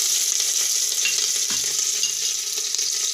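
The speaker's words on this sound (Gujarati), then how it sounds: "તો આપણે આ જીરું નાખી દેવું અને આપણે આ આદું અને આ લસ આપણે આ મરચું એ બધું નાખી દઈશું" Cumin, ginger, garlic and chili hit hot oil for a Gujarati whole moong khichdi tempering, giving a loud, dense, continuous sizzle with a faint stirring scrape.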